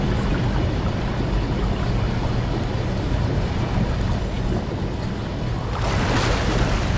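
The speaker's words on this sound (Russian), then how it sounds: "здесь, видимо, вода сейчас отсюда откачается" Water is pumped out of a flooded room in the video game Soma, heard as a loud, steady rushing wash of water that swells into a brighter surge near the end.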